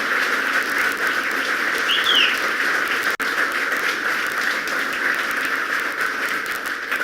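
Audience applause at a Western New York Smart Growth awards announcement, a sustained wash of clapping from a crowd, steady and fairly loud, with a brief dropout midway.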